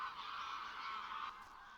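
Faint, distant goose honking, a short continuous noisy call from a flock that softens toward the end.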